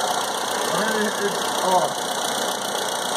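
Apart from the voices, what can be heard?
gasoline-fueled steam engine running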